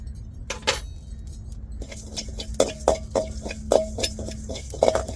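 Cumin seeds dry-roasted in a pan for prawn pickle, heard as close, rhythmic metallic scraping and clinking of a spoon stirring against the pan, repeated steadily over a low background hum.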